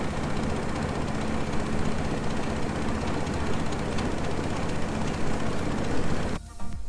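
A steady boat engine drone on the Mekong River runs throughout with a low rumbling hum and broadband noise, then cuts out abruptly near the end.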